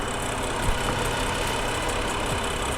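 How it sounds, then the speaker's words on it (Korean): A steady BMW 535i engine idle hums close by in the open engine bay, an even mid-low drone with no speech and a slight bump early on. "엔진 소리 일정합니다"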